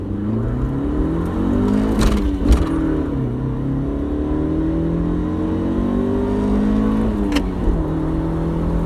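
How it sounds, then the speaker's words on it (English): A 1989 Acura Integra, front-wheel drive, pulls hard in first gear with wheel spin, its engine revving up loudly in a rising whine, shifting and climbing again as it accelerates toward 80, heard from inside the car without talk. "Whole bunch of wheel spin in first gear there."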